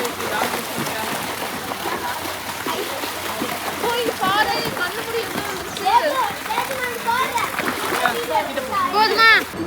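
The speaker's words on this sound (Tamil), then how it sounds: "இங்க வந்து நீச்சல் கத்துக்கிட்டு நீச்சல் அடிக்கிறான்" A child swims and splashes in a resort pool, with repeated watery splashes under steady background water noise, and children and adults talk and call out throughout.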